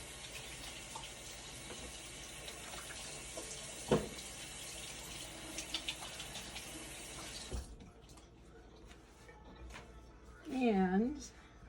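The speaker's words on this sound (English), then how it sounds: "Let me rinse my thumb off here." Running tap water pours steadily into a kitchen sink as a thumb is rinsed under it, a continuous close rush that stops abruptly partway through, followed by quiet handling noises.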